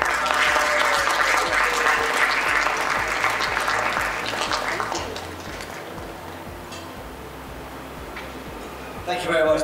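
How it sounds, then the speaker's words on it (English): Audience applause for the runner-up in the best Indian restaurant category at the JLT Restaurant Awards 2017, a loud sustained round of clapping that fades over several seconds, with voices mixed in and a brief swell near the end. "Big round of applause there for the runner-up of this best Indian restaurant category"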